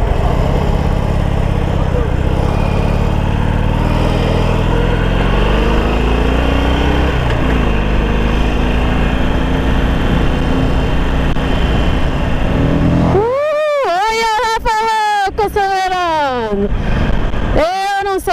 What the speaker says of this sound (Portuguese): Pilotar ainda essa motoca